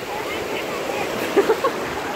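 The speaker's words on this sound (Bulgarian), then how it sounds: "На океана сме." Ocean surf washes in a continuous broadband rush, with a few short sounds rising above the steady roar near the end.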